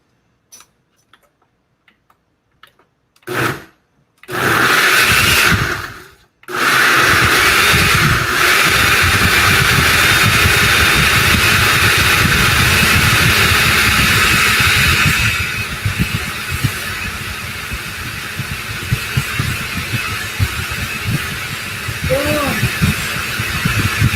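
A kitchen blender whirs loudly and continuously while blending tomatillos and avocados for green salsa, starting after a few short bursts, then settling into a steady grinding hum that eases slightly later on.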